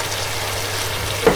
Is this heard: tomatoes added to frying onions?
yes